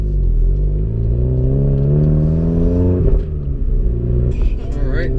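An MK7 Volkswagen Golf R drives around town, its engine droning steadily close by with a low rumble and a brief rise in revs midway, and light clatter near the end.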